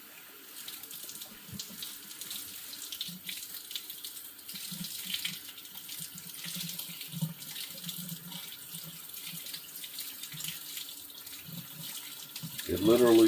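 A kitchen tap runs steadily, wetting a piece of food under the stream, a constant mid-level rush of water heard close, with faint talk at points.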